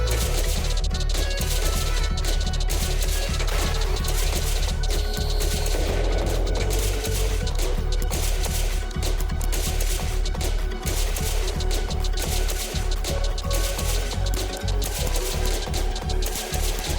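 Launcher and bunker weapons firing in Creeper World 2, a relentless rapid stream of dense, repeated shots and impacts over steady game music, loud and continuous with no pauses.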